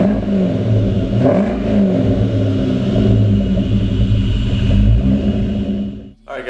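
A 2004 Mustang Cobra Terminator fitted with a 2.3L Whipple supercharger idles and revs, running a little rich and not quite smooth. Its deep, rumbling engine note swells close and loud, with supercharger whine, then cuts off abruptly near the end.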